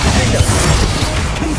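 Bombarda blasting spell cast in Hogwarts Legacy, heard as a loud, close crash and burst filling the whole moment, with a rough smashing texture and no gap of quiet.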